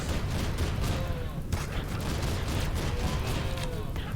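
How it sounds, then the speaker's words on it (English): Dense, sustained volleys of bolt gun fire from RimWorld keep up a constant crackle for the whole stretch, with faint voices mixed in under the heavy gunfire. "And the bolt gun is here."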